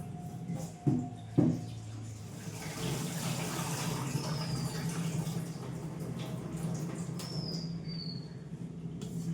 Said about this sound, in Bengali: এই চাল ধুয়ে নিলাম